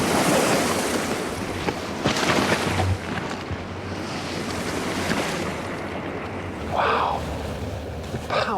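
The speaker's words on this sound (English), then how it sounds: "You can hear the chunks smashing against each other, then every so often the face just collapses" Glacier ice in Greenland grinds and crashes as chunks collide and the face collapses, a continuous roaring, wind-buffeted wash with a couple of louder surges.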